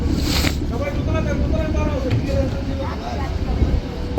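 Passenger launches arriving at Dhulia launch ghat make a steady, loud engine and water rumble with wind buffeting the microphone, while someone talks over it.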